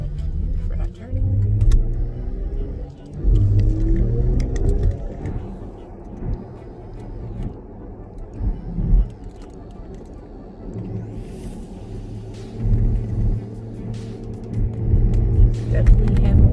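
A Porsche Panamera 4S drives on the road with engine hum and a few rising surges of acceleration, heard from inside the cabin under someone talking.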